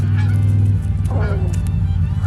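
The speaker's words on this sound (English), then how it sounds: "Those are geese." Geese honk a few times at close range over a low, steady hum.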